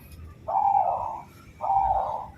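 A local wild zebra dove (perkutut) gives two drawn-out, mellow coos about a second apart, each steady and clear, heard close over a faint background hiss.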